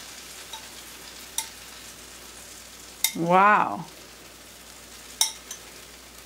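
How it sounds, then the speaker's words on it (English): Grated soy cheese sizzles faintly on hot baked zucchini, a soft steady crackle punctuated by a few sharp utensil clicks, with a short exclamation from a person in the middle. "Hear that sizzle?"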